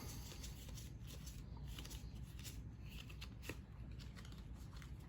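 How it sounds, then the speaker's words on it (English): Board game cards with a linen finish are handled and shuffled, giving a continuous soft papery rustle and flicking, faint and close throughout, with no voices. "Here are actually some more Hmong cards as we go through."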